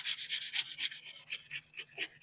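Bondo body filler on a car being hand sanded, a rapid even back-and-forth rasping of about a dozen strokes, close and clear with no talking.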